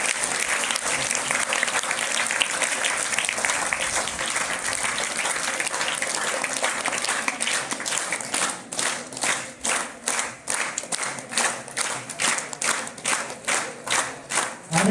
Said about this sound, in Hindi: विद्यार्थियों से निवेदन है कि वे जोरदार तालियों से इस कार्यक्रम का अभिनंदन करें